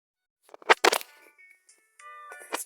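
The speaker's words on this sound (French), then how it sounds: "Ça vient de mon téléphone, cette musique." A phone plays a short ringtone melody, a few sustained electronic tones starting about halfway through, preceded by brief louder knocks and handling sounds.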